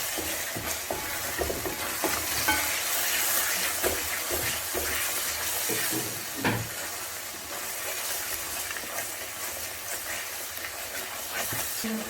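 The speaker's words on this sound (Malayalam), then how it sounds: "ഇതിൻ്റെയും പച്ചമണം മാറുന്നത് വരെ നന്നായി നമുക്ക് ഇളക്കി കൊടുക്കാം" Coriander and cumin powders frying in a pan while being stirred, a dense steady sizzle with scraping and occasional knocks of the spoon, close and continuous throughout, no voices.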